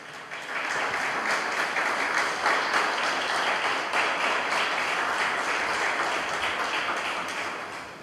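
A church congregation bursts into loud, sustained applause, dense clapping from many hands filling the room steadily for the whole stretch without a break.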